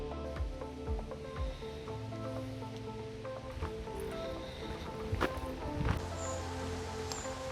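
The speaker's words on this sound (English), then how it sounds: "we're having a slight bit of a downpour" Rain patters steadily on surfaces nearby, with scattered drips and occasional louder splashes over a constant wet hiss.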